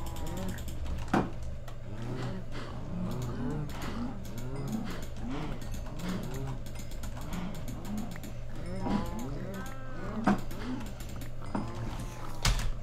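Cows in the Minecraft video game mooing over and over, with overlapping drawn-out lowing calls and scattered mechanical clicks, while a voice speaks briefly.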